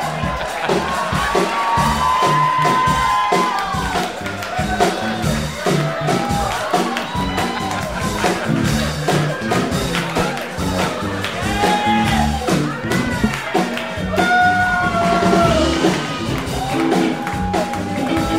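Live comedy club crowd cheering and whooping, loud and sustained, with shouts and yells rising and falling across the room in a continuous roar.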